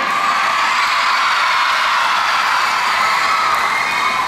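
A large audience in an indoor hall at a cooperative meeting in NTT, Indonesia, cheers and shouts in a loud, sustained roar that holds steady throughout, with no pauses.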